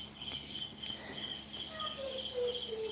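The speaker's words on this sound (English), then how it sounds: "The noise. Crickets." Crickets chirping in a steady, faint, high-pitched trill that repeats rhythmically throughout, distant and alone without talk.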